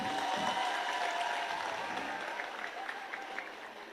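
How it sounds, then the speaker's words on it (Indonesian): An audience at an Islamic boarding school anniversary gathering in Indonesia applauds the country's vice president, a dense sustained round of clapping that slowly thins toward the end. "tepuk tangan untuk Mas Gibran"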